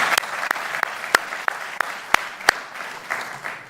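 An audience at a speech event in New York applauding steadily, with a few louder individual claps popping out of the continuous patter.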